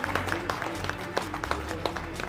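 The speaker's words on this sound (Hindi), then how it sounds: "महिला शक्ति के लिए ताली बजाओ" A hall audience claps at a Babasaheb Ambedkar Jayanti celebration in the LIC Chandigarh division: a steady, moderately faint patter of many hands, with a low hum underneath.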